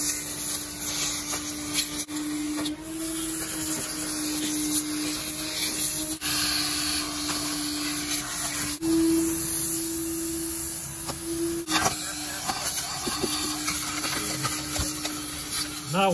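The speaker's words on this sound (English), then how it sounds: "whatever we couldn't get with the air gun, we're gonna get with the crevice tool" A vacuum crevice tool sucks grime out of a Mercedes C36 AMG, a steady loud whine with shifting scraping and rubbing as the nozzle moves, running continuously with brief changes in pitch.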